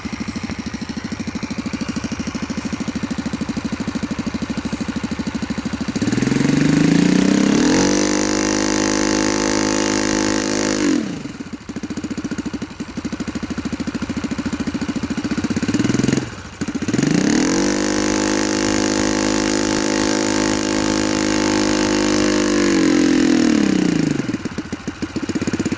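A Saito FA-45 model four-stroke engine, revived after being seized, runs loud and close with a steady harmonic drone that rises in two long surges and settles back to a low, even idle between them.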